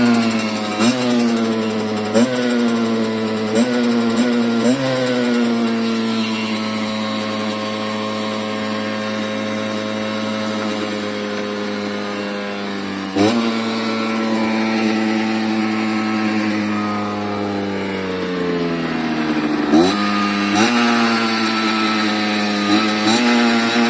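A 50cc Fantic moped engine runs steadily, a loud close buzzing two-stroke note that rises and falls with several throttle blips and a few brief dips, with no talking over it.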